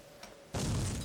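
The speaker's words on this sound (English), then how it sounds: "And there's the explosion." An explosion in the video game Max Payne 2 erupts suddenly after a quiet stretch, a loud, full-bodied blast that holds as a dense, rumbling roar until the end.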